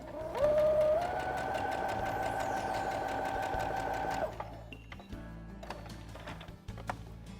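A sewing machine stitches a seam on a small fabric bag, whirring steadily at close range for about four seconds before stopping, followed by a few faint mechanical clicks.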